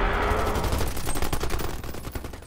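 Rapid automatic gunfire from a battle against a giant monster in The Suicide Squad movie, a dense, loud, continuous burst of shots with no voices over it.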